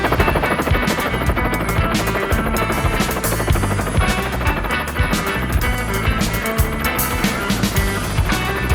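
A heli-skiing helicopter's rotor thumps loudly in a fast, pulsing rhythm, close and continuous with engine whine underneath.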